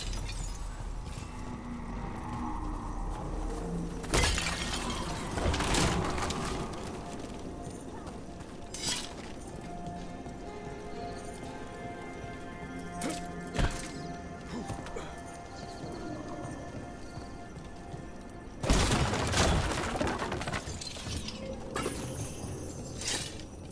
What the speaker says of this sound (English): Immediately start smashing every box you see.